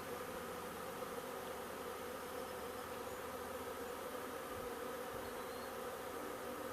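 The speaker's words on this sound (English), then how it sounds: "I've had a bunch of bees bumping into me" Honeybees hum in a faint, unbroken drone around a bee catch box set out during scouting, with no voices over the buzzing.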